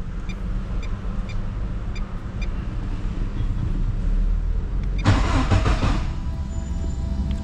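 A VW Gol Turbo with a fault that makes it cut out near 4500 rpm is briefly cranked after standing a long time, a short loud burst of starter and engine sound partway through, heard close over steady background noise.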